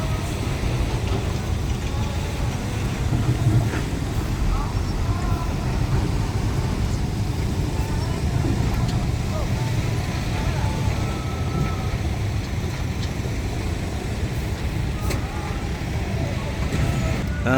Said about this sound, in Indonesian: Kita lihat kendaraan-kendaraan pribadi sudah melintas di jalan